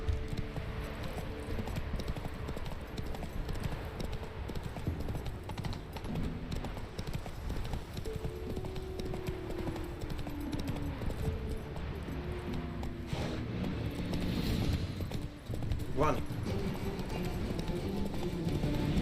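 Roach, the horse in The Witcher 3: Wild Hunt, galloping with steady rhythmic clip-clop hoofbeats over game music and ambience, with a brief whinny-like sound near the end.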